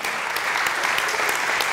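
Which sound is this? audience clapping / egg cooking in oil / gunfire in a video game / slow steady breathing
audience clapping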